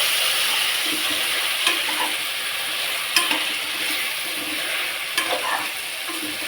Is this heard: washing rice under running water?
no